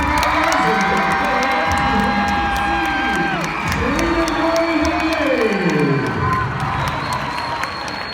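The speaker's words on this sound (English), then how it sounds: "Let's give them a big round of applause." A large crowd at a speaking event cheers and whoops loudly, with sustained shouting, high excited voices and scattered clapping filling the space from start to finish.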